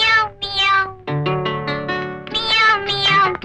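A cat meows several times in quick succession, close and clear, the high drawn-out calls following one another with short gaps and no talking between them.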